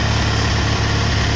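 A rebuilt-engine John Deere 316 lawn tractor runs steadily just after a cold start, a loud, continuous low engine drone with an even idle throb and no voices.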